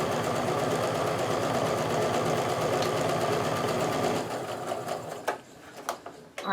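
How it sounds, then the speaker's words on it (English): A sewing machine chain pieces a quilt block, running in a fast, steady, close mechanical chatter for about four seconds before stopping, followed by fabric handling and a few light clicks. "Alright, so I've sewed all the way down."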